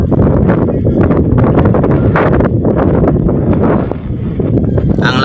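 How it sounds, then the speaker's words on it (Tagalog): Strong wind by the sea buffets the microphone in a loud continuous roar with gusty rustling surges, approaching ahead of a rain squall, while someone speaks under it. "Ang lakas ng hangin, papunta rito."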